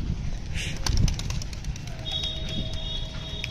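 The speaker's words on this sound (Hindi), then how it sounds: "तो दोस्तों उड़ाते हैं कबूतर।" Pigeons released from a coop burst into flight, a flurry of wing flaps and scrabbling taps close by, followed by a bird's high, thin whistling tone over steady outdoor background noise.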